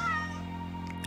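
Domestic cat giving a single short meow over a steady background hum, fairly quiet and close, with no talking.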